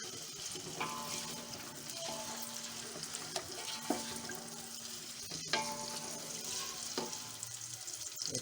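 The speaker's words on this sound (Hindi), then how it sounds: "अदरक थोड़ी सी फ्राई हो जाएगी, खुशबू आने लगेगी बहुत अच्छी सी।" Finely chopped ginger fries in a pan for Delhi-style nalli nihari, a steady close sizzle with brief stirring scrapes and clinks recurring every few seconds.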